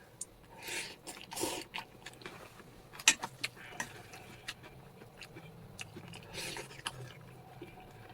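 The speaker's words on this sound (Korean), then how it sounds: "먹는 중이다." Someone eats stir-fried rabokki, with quiet, irregular chewing and soft crunchy bites, interspersed with faint clicks and small mouth noises at close range, with no speech.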